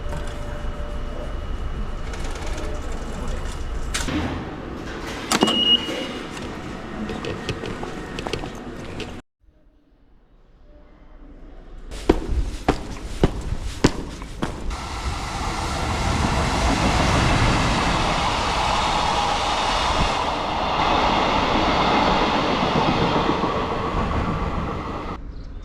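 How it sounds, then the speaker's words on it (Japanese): An electric train rumbles along with rhythmic clatter and sharp clicks from the rails, briefly dropping to near silence before the noise swells back steadily. "電車動いてるから聞きたかった。"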